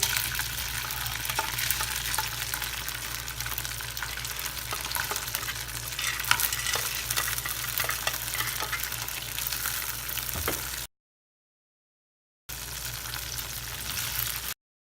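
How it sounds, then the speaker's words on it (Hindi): Dry fruits frying in melted butter in a pan over a low flame, a steady soft sizzle with occasional spoon scrapes as they are stirred, continuous and close, then a brief cut to silence before the sizzle resumes. "और इसे लो फ्लेम पर फ्राई करें।"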